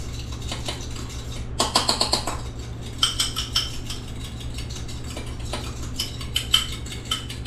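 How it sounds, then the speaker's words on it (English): Utensil stirring and mixing veggies with Pirate's Lantern sauce in a bowl: irregular clinks and scrapes in short bursts, close and moderately loud, over a steady low hum. "we're going to mix that together with our Pirate's Lantern sauce"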